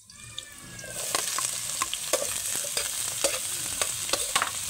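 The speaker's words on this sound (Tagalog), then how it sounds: "Og pagkahuman mao na gigisa na nato ang kalamasan." Spices and aromatics hit a hot pan and break into a loud, close sizzle after a quiet start, with sharp clicks and scrapes of a utensil stirring them and no talking.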